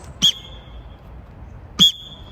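A coach's whistle sounds two short, sharp blasts about one and a half seconds apart at one-on-one football training, clear and close against quiet background noise.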